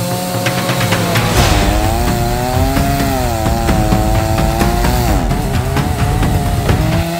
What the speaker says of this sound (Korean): 자, 전기톱을 꺼냈습니다.